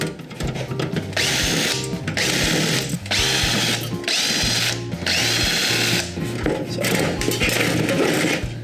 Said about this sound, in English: Next thing you want to do is undo the screws at the top here.